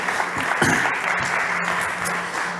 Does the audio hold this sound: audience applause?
yes